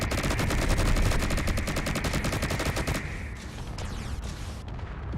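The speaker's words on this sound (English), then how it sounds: "I can't hear shit over all the explosions." Video game combat with rapid automatic gunfire and explosions bursting continuously, loud and dense, thinning out toward the end.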